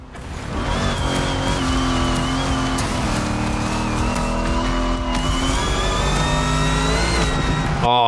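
A muscle car revs and drives continuously in TC Motorfest, a steady loud engine drone with rising and falling pitch throughout, no talking.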